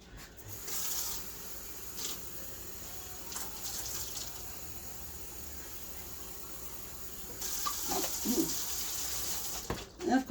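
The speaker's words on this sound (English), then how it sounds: "And we're going to fill this up with water too." Tap water runs into an emptied spaghetti sauce jar, a quiet splashing fill that stops and starts with soft clinks, faint and close with a little background noise.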